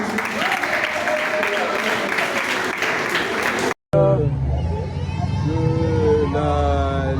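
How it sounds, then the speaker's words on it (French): An audience claps at a reading festival in Kinshasa, a dense wash of applause mixed with voices for several seconds before an abrupt cut to talking over background noise. "Allez, applaudissez pour moi."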